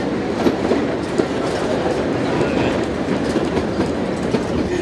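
A Mallet articulated steam locomotive hauls a train on the mountainous Vivarais railway, a loud, continuous rumble with rhythmic wheel clatter.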